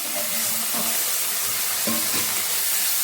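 Coriander, mint and curry leaves sauté in hot oil in a close, continuous crackling sizzle, with a few soft stirring knocks in the pan.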